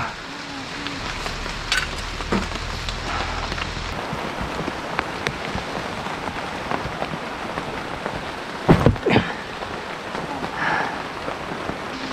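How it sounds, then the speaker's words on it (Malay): Light drizzle patters steadily on surfaces at a forest campsite beside a river, a soft continuous hiss with scattered drops and a few brief knocks and rustles nearby. "Hujan renyai-renyai."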